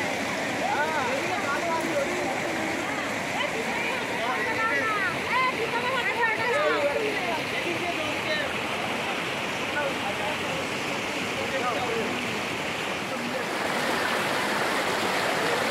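Water rushes and splashes steadily in a stream at Sittong near Darjeeling, as someone tosses water over themselves; the flow stays continuous and fairly loud throughout, with voices talking over it.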